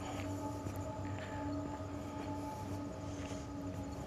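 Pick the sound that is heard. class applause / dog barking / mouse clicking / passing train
passing train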